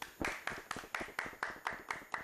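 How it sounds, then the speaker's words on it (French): A small group of people claps for the president at a live event, steady evenly spaced claps in a regular rhythm, fairly faint and heard alone without talk. "On va applaudir pour le président."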